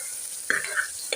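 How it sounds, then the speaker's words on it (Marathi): Tomatoes sautéing in a pan for pav bhaji give a brief, steady sizzling hiss broken by two quick spatula scrapes against the pan. "आता टोमॅटो देखील अशाच पद्धतीने परतून घ्यायचा"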